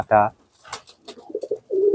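Pigeons give a short, close coo followed by softer, broken cooing notes. The calls are brief and clear against a quiet background.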